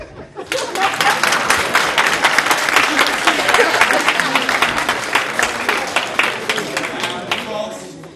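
An audience breaks into loud, sustained applause after a joke about an African head of state starring in a British sitcom, dense clapping that builds quickly, holds strong, then thins out near the end.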